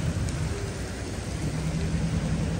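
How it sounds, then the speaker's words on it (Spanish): A heavy rain shower starts on a street in Centro Habana, Cuba, giving a broad, steady roar of falling water with a low rumble underneath, loud and continuous throughout. "Ahora sí empezó a llover."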